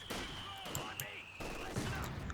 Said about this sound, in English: So we have the mortar firing once again.